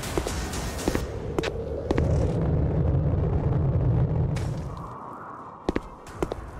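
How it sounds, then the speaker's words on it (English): Grenade blasts in a VR shooter game, repeated sharp booming bursts over a rumbling hum, fairly loud and close, with brief gaps between impacts. "Grenades!"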